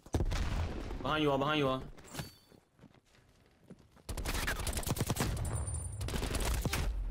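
Gunfire in Black Ops Cold War, the player's character taking hits from behind: bursts of rapid shots and impacts, loud and dense in the second half, with a voice speaking over the action.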